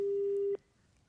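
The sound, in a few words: telephone busy signal after call connection dropped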